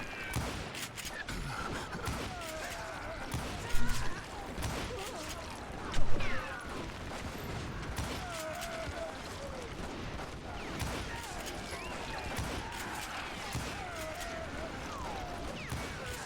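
Gunfire in Call of Juarez: Gunslinger, with rapid repeated shots and a few louder cracks over steady game music and background effects.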